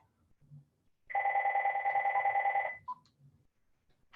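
A telephone rings once with a steady electronic tone lasting about a second and a half, moderately loud in a quiet room, followed by a short chirp and faint background noise.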